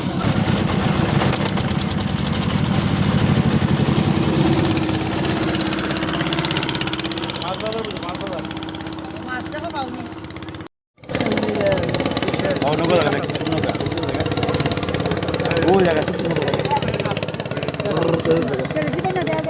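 A motor boat engine running steadily at idle on the Titas River in Brahmanbaria, Bangladesh, a low continuous drone with vibration, briefly cut off near the middle, with voices talking over it.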